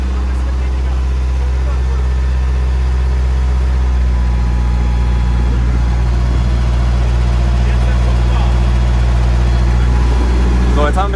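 A Case tractor engine running at full throttle, about 72 hp, drives an irrigation pump with a steady, loud, low drone and no change in pitch, close to the listener.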